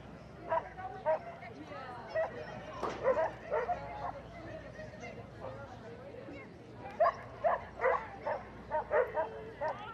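Short sharp barks from Simba, a miniature pinscher running an agility relay, come in quick bursts through the run, joined by yips and whimpers, while a commentator talks over the action.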